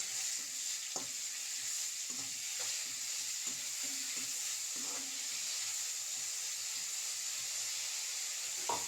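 Chopped onion, carrot and beetroot fry in oil after mustard seeds for kothu chapati, giving a steady, even sizzle throughout with occasional soft clicks of a spoon stirring, no talking.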